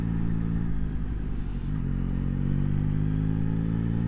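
A 2024 Yamaha XSR900 GP motorcycle on the move, its engine giving a steady mid-pitched drone with a brief dip in the middle, close and continuous under wind noise, without talk.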